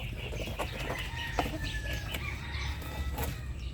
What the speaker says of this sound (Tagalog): Firebird White Kelso. Ito hen na to, hen.